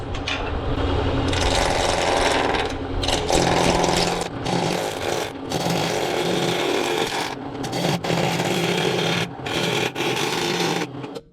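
A wood lathe spins a blank at about 1200 RPM while a bowl gouge rounds it out, giving a close, rough scraping and rubbing cut in uneven bursts with short pauses between passes.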